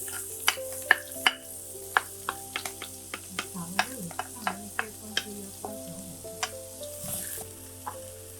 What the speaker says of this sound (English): Fry the shallots and ginger until they get fragrant.